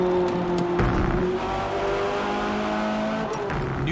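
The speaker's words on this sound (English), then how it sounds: "Every tire squeal, every engine, lap after lap." Car engines in the Forza Motorsport racing game, loud revving and shifting engine tones with brief tire squeal, steady and close with no talking.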